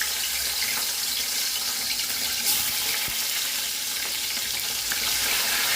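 Fermented smoked sardinella fish from the Senegalese coast browning in hot oil, a dense, steady sizzle and crackle that stays loud and close without pause, with no talking.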